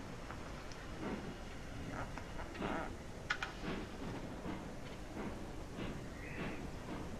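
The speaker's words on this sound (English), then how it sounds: "this is fairly dynamic weather, so this storm may last a day, it may last 2 days." Thunderstorm weather with rain in the train game Railroads Online, a faint continuous rain hiss with soft low rumbles and scattered sharper patters, distant and quiet.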